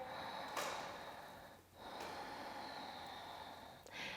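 Deep breaths taken during a yoga flow: a long, airy inhale and exhale close to the microphone, a short pause, then another sustained breath with a soft sniff near the end.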